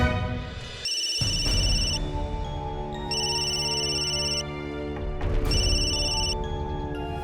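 A telephone rings in repeated loud electronic bursts, three ring cycles in a row with short gaps, heard on its own in an indoor TV drama scene.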